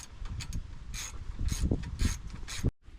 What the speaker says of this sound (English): So we are going to put the base in. Using the original screws that came from the seat.